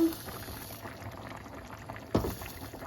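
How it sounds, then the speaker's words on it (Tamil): Chicken biryani bubbles in a cooking pot with a soft, steady simmering burble, close and quiet, with one brief louder splash of bubbling toward the end. "இப்போ பிரியாணி கொதிச்சு கொண்டிருக்கு."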